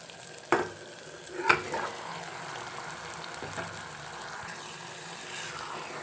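Mutton hits a pan of spiced oil fried with onion and tomato masala, giving two sharp clattering sizzles early on, then a continuous moderate frying hiss with small stirring sounds.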